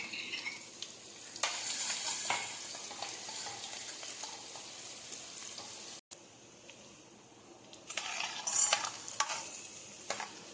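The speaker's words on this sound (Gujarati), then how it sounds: "લસણને આપણે બરાબર શેકી લઈશું" Garlic paste fries in a pan with dried red chilli for a Gujarati dried pigeon pea curry, a steady close sizzle with bursts of stirring and scraping, no talk.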